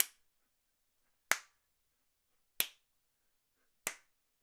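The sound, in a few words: hand claps recorded with omni microphone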